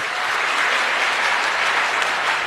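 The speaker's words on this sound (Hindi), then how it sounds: "मैं चाहता हूं AWPL की जबरदस्त तालियां होनी चाहिए" A large audience at a direct-selling network marketing event for AWPL claps loudly and continuously, a thick, even wash of applause with no talking over it.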